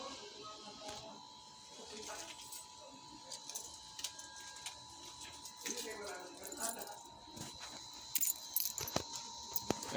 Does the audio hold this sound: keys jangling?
yes